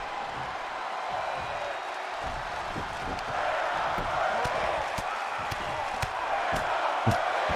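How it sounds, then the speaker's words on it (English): A wrestling crowd at an independent pay-per-view event chants in unison from the stands, a broad steady roar with sharp claps and thuds standing out through it. "Crowd chanting, "We're not worthy.""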